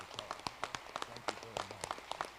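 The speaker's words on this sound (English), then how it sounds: "Ladies and gentlemen, a warm round of applause." Audience at a Veterans Day ceremony in Wakefield, November 2024, clapping in scattered, uneven bursts, fairly faint and distant, with a few stray voices mixed in.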